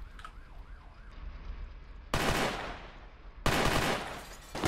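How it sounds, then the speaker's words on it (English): Gunfire in a shootout in the Roblox video game: bursts of dense rapid shots start abruptly twice, loud and close, with a wailing siren audible faintly beforehand. "there's a massive shootout. Right in front of me."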